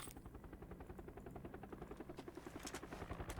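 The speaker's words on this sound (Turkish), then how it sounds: "Helikopter, helikopter." A helicopter flies in the video game PUBG, its rotor chopping in a steady rapid pulse that swells slightly louder toward the end, fairly faint and with no talking.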